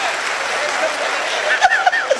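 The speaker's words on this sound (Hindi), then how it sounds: "भैया ताली गूंजनी चाहिए, कमाल की बात है।" An audience applauds in a steady, moderate wash of clapping, and a voice breaks in over it toward the end.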